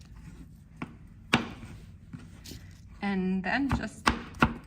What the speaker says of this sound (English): just the most basic chopping, not finely chopped at all, because garlic cooks so quickly